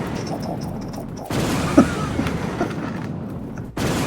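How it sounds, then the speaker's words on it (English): Explosion effects added to a video game headquarters diorama with an anti-aircraft heavy sentry defense turret, with a sudden burst of rumbling blasts and a sharp boom about midway, continuing at moderate volume before cutting off. "Let me add some explosions."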